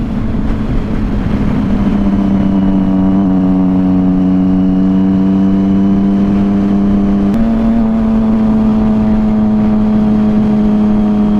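A 2011 Triumph Street Triple 675R motorcycle engine idles and revs steadily up close, its pitch stepping up twice in a smooth, continuous drone with no talking.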